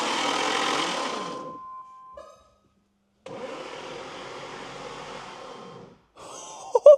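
A flooded Aston Martin Vanquish, one of 94 built, cranks on its starter in two sustained whirring runs separated by a pause, without catching, ending in a short sharper burst.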